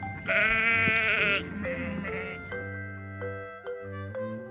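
A sheep bleats loudly and close with a wavering, quavering cry, then a second shorter bleat, after which light chiming music plays on its own.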